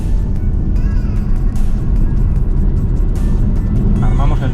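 A Cupra Born electric car launches hard for an acceleration test, giving a steady loud rumble of road and wind noise inside the cabin that holds throughout.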